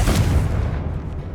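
A Confringo spell blast in the Hogwarts Legacy video game: a loud, dense booming burst with a rumbling low end that fades slightly over a second and a half, with no voice over it.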